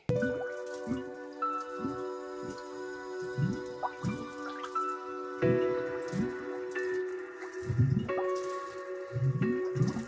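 Water pours into a storage tank at a hillside home in the mountains, heard as a close series of regular, heavy drips and splashes over a soft liquid background, with no voices.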